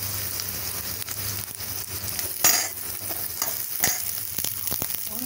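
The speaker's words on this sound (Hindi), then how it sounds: "प्याज को हमें ज़्यादा गलाना नहीं है, हल्का सा ही फ्राई करना है।" Onion and curry leaves frying lightly in a pan for poha, a close, steady sizzle broken by a few sharp spatters and stirring scrapes.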